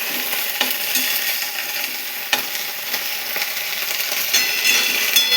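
Oil sizzles steadily in a pan over a gas flame as food fries, with a constant bright crackle and occasional metallic taps and clinks of a stirring spoon.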